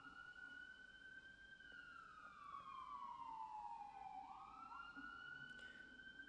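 An emergency vehicle siren sweeps slowly up and down as it passes at a moderate distance, steady and continuous over faint road noise, with no talking.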